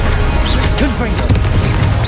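Confringo blasting spell explosions in Hogwarts Legacy, dense booming blasts and crashes layered with shouted spell voices, loud and close throughout the short burst.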